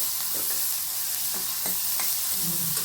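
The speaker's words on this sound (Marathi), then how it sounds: "कांदा असा परतायचा लालसर होईपर्यंत." Chopped onion sautés in a hot oiled pan with a steady sizzle, broken by a few scraping stirs of a spoon, close and moderately loud with no talking.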